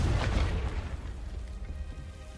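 A Confringo fire spell explodes in the Hogwarts Legacy video game, a heavy booming blast with a deep rumbling tail that fades slowly over a couple of seconds, close and loud.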